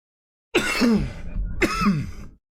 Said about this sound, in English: Smoker's cough.